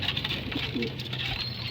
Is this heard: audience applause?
no